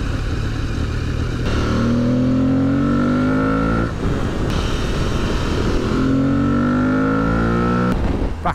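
Aprilia Tuareg 660 motorcycle engine in fourth gear, loud and close, with a steady drone whose pitch rises and drops in repeated waves as the rider rolls on and off the throttle.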